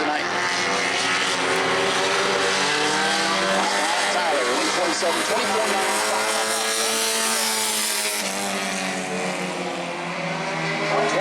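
A bomber-class race car on a qualifying lap at New Smyrna roars loudly past, its engine note rising and sweeping as it passes, while an announcer talks over it.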